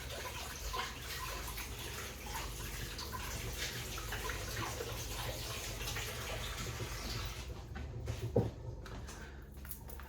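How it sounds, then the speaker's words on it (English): Hands being washed under a running kitchen tap while baking hot cross buns, a steady broadband water rush filling the whole stretch, easing off near the end with a brief clink. "Let me just wash my hands again."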